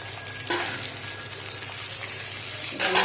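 Onions, green chillies, mint and onion paste fry in oil for bhagara rice, a steady close sizzle that runs throughout, swelling slightly partway through and again near the end.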